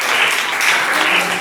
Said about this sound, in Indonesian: Kasih tepuk tangan untuk kelompoknya Raisa.